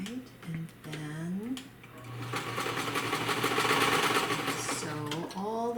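A sewing machine runs in a sustained whirring burst while stitching a fabric mask, with a voice talking before and after and a low steady hum underneath throughout.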